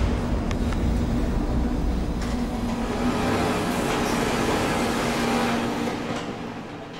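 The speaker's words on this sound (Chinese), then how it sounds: "搭上了台铁自强号152次列车" A Taiwan Railway Tze-Chiang express train runs with a steady, loud rumble and rattle heard from inside the carriage, continuous throughout and easing slightly near the end.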